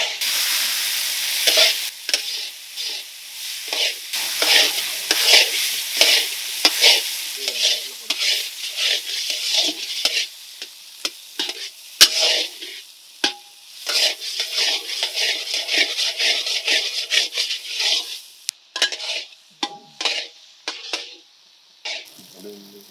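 Brinjal fries in oil with ground turmeric, cumin-pepper paste and roasted masala for a village-style gravy, a loud, close sizzle under frequent scraping, clattering stirs against the pan, with a brief lull near the end.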